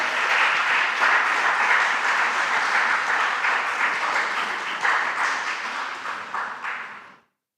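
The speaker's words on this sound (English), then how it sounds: "A round of applause for Solomon." Students and spectators at a junior science and maths quiz give a contestant a round of applause, dense and even clapping that fades out over about seven seconds.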